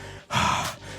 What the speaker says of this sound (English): I'm breathing heavily.